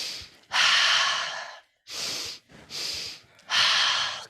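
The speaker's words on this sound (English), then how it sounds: "Double inhale." Deep, airy inhalations during a breathing exercise, four strong breaths in sequence with short pauses between, close and loud with no talking.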